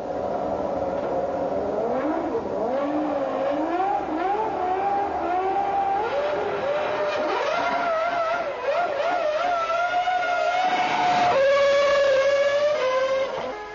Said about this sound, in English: drop the clutch, spin the wheels, 50 quid's worth of rubber on the racetrack